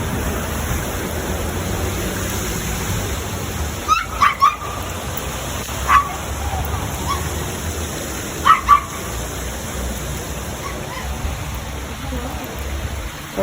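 A reactive dog barks a few times from some distance during an outdoor socialization session, short paired yaps spaced across steady outdoor background noise.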